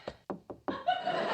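Three sharp knocks on an apartment door in a sitcom scene, evenly spaced, followed by a voice talking close by.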